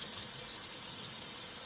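Water runs steadily from a tap through a flowmeter, giving a continuous bright hiss and splash with no pauses and no voices.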